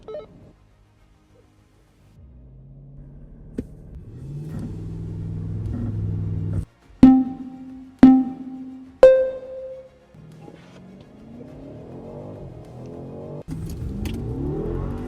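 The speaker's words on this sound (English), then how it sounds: "It launches really hard" A 2024 BMW X7 M60i and a 2024 Mercedes-Benz GLS580 launch in a drag race, heard from inside a cabin as an engine rumble that rises under hard acceleration. Several sharp electronic beeps break in midway, then the engine drone builds again.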